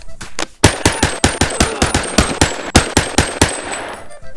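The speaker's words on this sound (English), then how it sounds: "Normally we just empty the full mag into him" A full magazine of automatic gunfire empties in the VR game Boneworks, a loud, close, evenly spaced string of sharp shots lasting several seconds before stopping.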